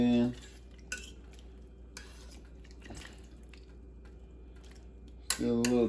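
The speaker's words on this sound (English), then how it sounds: "Stir it in." A spoon scrapes and clinks against a pot as gravy mixture is stirred into turkey knuckles, several sharp metallic knocks spaced about a second apart over a low hum, with a voice speaking at the start and end.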